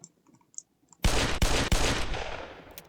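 Physics-simulated guns fire in a Roblox building and PvP game: a quiet start, then a loud burst of three close, rapid shots whose noisy reports overlap and ring out slowly, with no voices.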